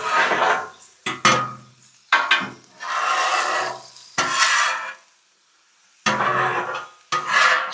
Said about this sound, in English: Scrape all the food bits to the back.